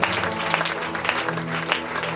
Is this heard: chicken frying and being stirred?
no